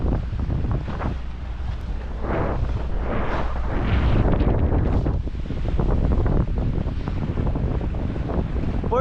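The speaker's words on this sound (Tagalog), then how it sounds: "Dito may malakas na hangin pero ano lang, kalmada lang yung alon." Strong wind buffets the microphone in a steady roar by the sea at Mariveles, Bataan, with the wash of calm sea waves and water underneath; no talking.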